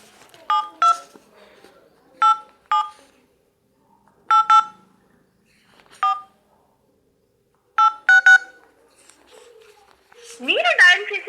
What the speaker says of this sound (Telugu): మసరత్ అనే బ్రోకి నేను ఫోన్ చేస్తున్నా